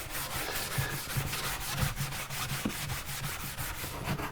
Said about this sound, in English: So when you're working, you just give it a rub.